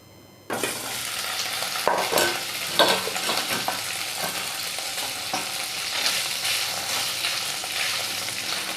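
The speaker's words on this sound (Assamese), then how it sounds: "এতিয়া একেখিনি তেলতে মই পনীৰখিনি ফ্ৰাই কৰিম" Steady hiss and crackle of paneer frying in hot oil, continuous and close, with a few sharper spatters and scraping stirs.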